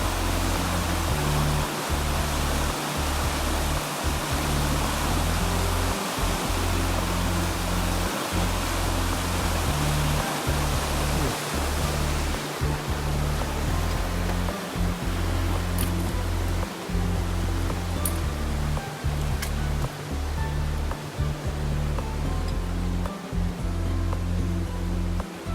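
A mountain stream running high churns and rushes in a steady, loud roar along a trail near War Spur Shelter, with no voices over the water.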